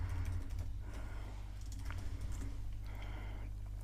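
Keyboard typing during an online search, a steady run of light clicks over a constant low hum, with no talking.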